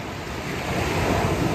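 Ocean waves at River Mouth Beach in Margaret River in the late afternoon make a steady, continuous wash of surf, with wind buffeting the microphone throughout and no voices.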